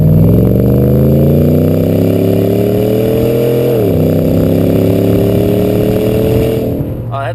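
A 2014 Chevrolet Silverado 1500 with a 6.2L V8 and an MBRP XP single 3.5-inch cat-back exhaust revs loud and close, its deep drone rising steadily and dipping once mid-clip before climbing again, then cutting off at the end.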